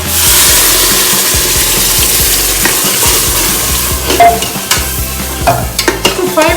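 Ground spice paste goes into frying mutton and is stirred vigorously: loud, close scraping and clattering of a spoon against the pot over a strong sizzle, with quicker knocks toward the end.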